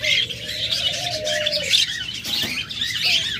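Caged lovebirds and budgerigars at a bird sale chirp and tweet busily, with a soft rising call or two among rapid high twittering, fairly close and without talk.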